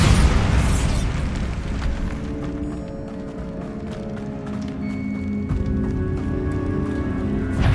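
A loud, booming Bombarda spell explosion from Hogwarts Legacy, a heavy blast that rolls on as a dense roar with rumbling debris and ringing tonal magic effects carrying through the whole span.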